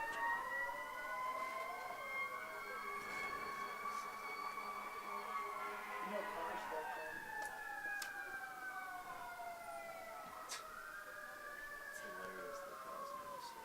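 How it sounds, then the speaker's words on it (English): Several sirens wail and sweep up and down at a moderate distance, overlapping as emergency vehicles pass by a baseball game, steady throughout. "Home plate umpire just was letting the sirens get by before he continued play."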